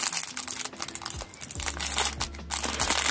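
Plastic packaging of a cross-stitch kit crinkles and crackles close up as it is opened, with irregular bursts of crumpling and tearing rustle throughout the short stretch.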